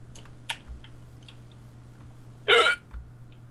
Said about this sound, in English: Whoops. Hiccup. Pig hiccup.